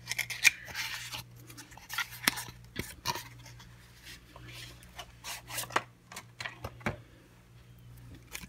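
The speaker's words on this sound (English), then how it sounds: "I'm going to try not to rip the box." A cardboard box of candles is handled and opened nearby, giving off quiet scraping, rubbing and crinkling with sharp little taps and tearing bursts scattered irregularly over a low steady hum.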